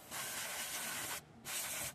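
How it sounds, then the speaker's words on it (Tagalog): Brake cleaner sprayed from an aerosol can onto the handbrake adjuster of a Mitsubishi Montero, two close, loud hissing bursts, the first long and the second shorter after a brief pause. "kaya i-sprayan ko yan gamit itong brake cleaner."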